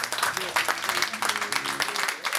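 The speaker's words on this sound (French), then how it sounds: "On peut l'applaudir très très fort" Crowd applause at a Paris nightclub party, brief and dense, with a voice talking over it and music tones underneath throughout.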